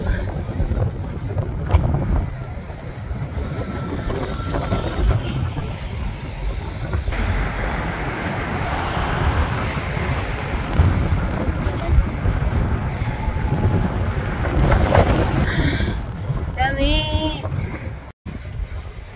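Steady, heavy wind rushes and buffets the microphone throughout, with some voices underneath and a brief squeaky sound near the end.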